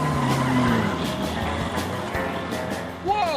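A 1972 Datsun race car at speed on a track, engine roaring steadily with a long tire skid and squeal throughout, loud and close, rising into a sharp whine near the end.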